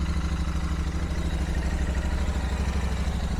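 Steady, smooth idle of a 2024 Royal Enfield Interceptor 650 parallel-twin motorcycle just after a cold start, an even low rumble with light mechanical clatter, close and continuous with no talk.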